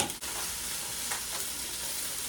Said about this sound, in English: That way it can saute and get cooked.